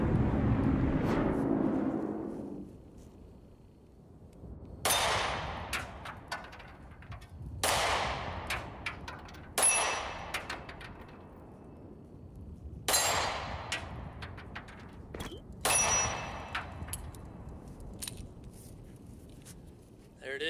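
Pistol shots ring out against steel targets in a string of sharp, separate cracks, about six reports spaced a couple of seconds apart, moderately distant and fairly faint overall.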